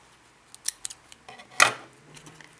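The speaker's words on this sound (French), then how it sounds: "Déjà, je vais prendre le ciseau." Scissors snip open a paper envelope holding a Pokémon card, a few short sharp cuts building to one louder crisp snip, close and alone in a quiet room.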